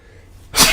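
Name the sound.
sneeze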